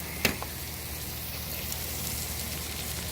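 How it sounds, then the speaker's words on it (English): Chicken fries in butter in a covered pan, giving a faint, steady, close crackling sizzle with no talking over it. "butter going, chicken frying"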